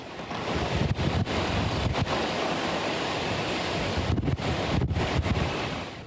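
Loud, roaring wind buffets the microphone continuously, with a heavy rushing wash and brief dropouts, like standing exposed in a violent storm.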